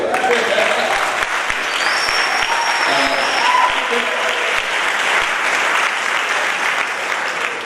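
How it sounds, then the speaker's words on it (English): A large audience applauds during a public health talk, producing a dense, steady roar of clapping with murmured voices and a few whoops mixed in. "you can clap, it's okay"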